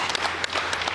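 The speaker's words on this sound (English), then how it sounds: "Give him a round of applause." Audience applause at the Governor's Workforce Summit 2022, a steady wash of many hands clapping together for a full second, moderately loud and dense with no voices rising above it.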